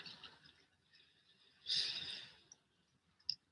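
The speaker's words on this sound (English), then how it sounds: "Breathe in and out." One slow, soft breath out is heard up close, a brief airy sigh in a quiet moment, with faint clicks around it.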